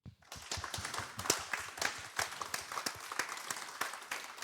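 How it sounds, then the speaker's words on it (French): Applause after a talk starts abruptly and carries on as a modest crowd claps, individual claps audible as scattered sharp hits over a softer steady layer. "On peut encore applaudir."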